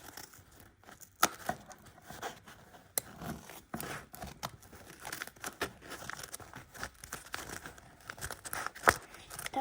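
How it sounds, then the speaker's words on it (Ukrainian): Scissors snip and cut through paper gift wrapping, with crinkling and tearing of the paper as a gift is opened; close, soft crisp cuts and rustles in irregular bursts, no talking. "Ми будемо відрізати ножицями."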